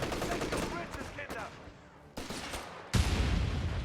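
Rifle grenade fired in Company of Heroes 3 amid a busy battlefield, with gunfire rattling throughout and a sharp, loud blast near the end.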